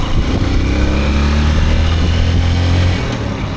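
A motorcycle engine runs steadily and loudly up close, a constant droning hum that eases off slightly near the end.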